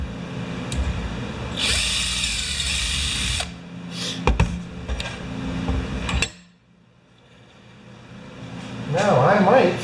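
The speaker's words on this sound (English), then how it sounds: "Run a drill bit through there." A power drill drives a bit through material in a home fabrication job, whining in two bursts of a few seconds each with clatter and knocks between, then dropping to near silence before a voice and further noise return at the close.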